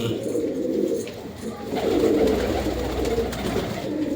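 Pigeons, including black-spotted, blue-barred and white birds, coo in a low, continuous murmur close by, layered over steady background noise with a few faint higher bird calls.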